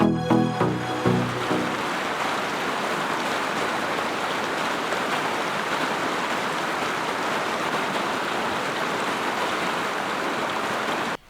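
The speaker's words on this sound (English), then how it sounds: "Listening to the gentle ripples as the water flows downstream is enough therapy for a troubled mind." The Rupingazi River in Kenya rushing downstream, a dense, steady wash of flowing water heard up close after a few brief knocks at the start, then cutting off abruptly.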